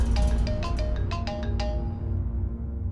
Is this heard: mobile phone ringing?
yes